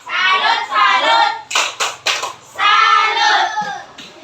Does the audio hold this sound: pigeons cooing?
no